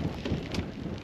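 Rain falls outside on a lake dwelling, a dense, even hiss of drops with low rumbling underneath throughout the brief stretch, no voices.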